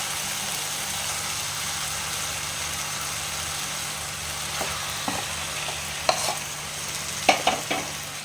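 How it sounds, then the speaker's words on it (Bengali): Mutton sautéing in a pan for a potato mutton curry, a soft continuous sizzle under a low steady hum, with a few sharp spatula scrapes and clinks toward the end. "এভাবে কষে নেব মাংসটা"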